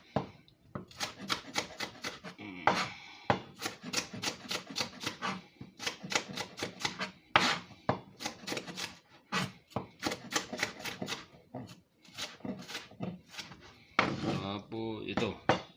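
Knife julienne-cutting vegetables such as carrots on a board at home for chicken yakisoba, heard as rapid, steady runs of crisp chopping taps repeated across the whole stretch, close and fairly loud, with a short pause and a scraping rustle near the end.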